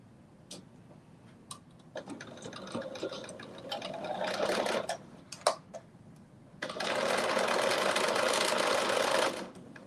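Domestic sewing machine stitching a seam in jersey knit fabric at a 5/8 inch allowance, running in short bursts and then a longer steady whirring run with small clicks between, close and fairly loud, with no talking.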